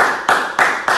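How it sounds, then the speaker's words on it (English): An audience claps for a donor in a brief burst of applause, with sharp claps landing at a steady pace. "Clap for the person"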